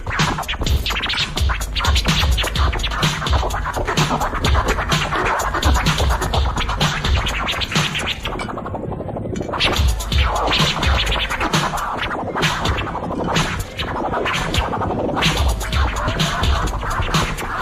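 Loud, rapid turntable scratching, dense back-and-forth record scratches running continuously with brief pauses and no voices.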